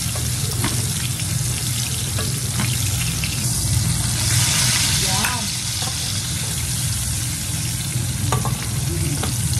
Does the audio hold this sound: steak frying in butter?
yes